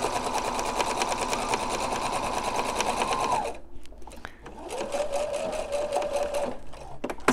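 Near, loud whirring of a sewing machine stitching fabric for a face mask, running steadily, pausing briefly with soft handling clicks, then starting again at a slightly different pitch.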